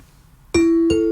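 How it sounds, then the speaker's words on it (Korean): A ding-dong-dang correct-answer chime plays on a Korean live radio show, with two bright bell tones struck in quick succession, loud and ringing out clean against a quiet background. "그래서 자신 있게 제가 딩동댕을 했습니다"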